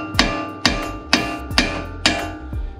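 A hammer strikes the side of a 19 mm tie rod end on a fifth-generation Honda Prelude's front suspension, five sharp metallic taps at a steady, roughly half-second rhythm, close and ringing, with no talk.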